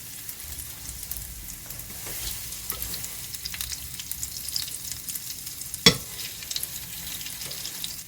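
Butter sizzles in a pan as milk-soaked French toast fries. A close, even crackle continues throughout, broken by light clicks and one sharp clatter near the end, with no speech.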